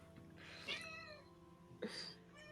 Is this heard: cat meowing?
yes